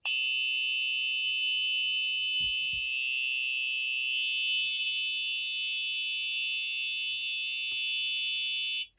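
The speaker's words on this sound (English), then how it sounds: "modulator doing the fire alarm." Fire alarm sound played through a modulator, a single steady high-pitched electronic tone that holds unbroken for the whole stretch, with a couple of faint low thumps in the background before it cuts off.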